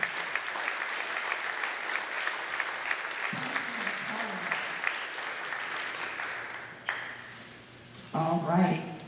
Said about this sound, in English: could we have a round of applause for the Scouts and Cub